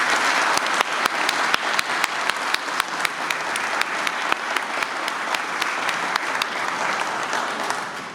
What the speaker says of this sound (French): On peut vous applaudir vraiment.